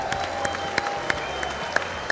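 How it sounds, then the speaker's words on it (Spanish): An audience applauding at a show, a steady, moderately loud wash of clapping from a crowd with a few sharper individual claps standing out and no talk over it. "Un aplauso para esos valientes y esas valientes"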